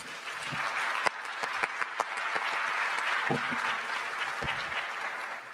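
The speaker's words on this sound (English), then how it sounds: "Join me in a round of applause for Brett McGurk and Undersecretary Voronkov." Applause from the audience at a Doha Forum panel, a dense, sustained wash of many hands clapping at steady loudness with a few sharper individual claps standing out.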